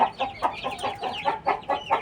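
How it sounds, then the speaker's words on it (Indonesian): Young chickens about five weeks old cluck and cheep in a rapid, steady rhythm of short close calls, a lively brood filling the whole stretch without any talk. "Kemudian ini adalah ayam yang sudah berumur, anak ayam yang sudah berumur"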